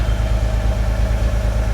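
A Nissan 300ZX engine idling after years off the road, with a steady low rumble and even pulsing throb, close and loud, with no voices.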